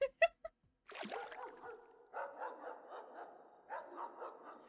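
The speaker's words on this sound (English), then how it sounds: "She sent the dogs after me." Dogs barking in the video game Pocket Mirror, a run of repeated, moderately loud barks and yelps after a few sharp opening thuds, with a brief splash-like burst in between.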